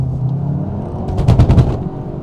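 A front-wheel-drive hot hatch spins its wheels on a damp road, a loud engine drone rising into a burst of harsh, rapid rumbling clatter before settling back.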